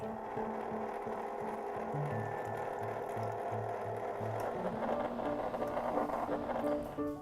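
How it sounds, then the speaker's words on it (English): An ice cream maker churns lemon basil sorbet with a steady mechanical whirr and rhythmic ratcheting clicks, continuous and close throughout. "I'm going to add it to the ice cream maker. It'll go another 15 minutes and then it'll be ready."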